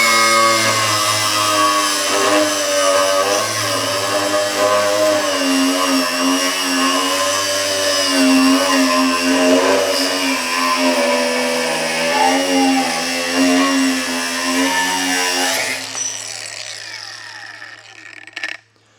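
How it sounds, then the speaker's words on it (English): An ArcCaptain angle grinder fitted with a cutoff wheel cuts through metal, a loud, steady high whine with harmonic tones that holds for about fifteen seconds, then cuts off and winds down. "The cutoff wheel seems to work good. I'm halfway through it now, so let's cut the other half."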